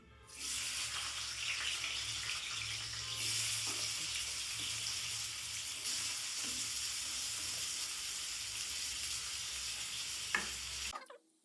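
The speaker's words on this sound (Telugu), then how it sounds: "ఇప్పుడు ఆనియన్ వేస్తున్నాం." Onions sizzle in hot oil in a pan while cooking a ridge gourd curry, giving a steady, bright hiss with occasional stirring clinks that holds for about ten seconds and then cuts off abruptly.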